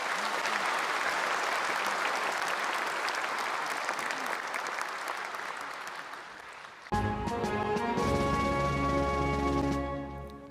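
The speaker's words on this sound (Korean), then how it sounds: "여러분 다시 한번 큰 박수 부탁드리겠습니다" Large crowd applauding at a Korean Liberation Day ceremony, a dense loud wash of clapping for about seven seconds that gives way to music swelling in and carrying to the end.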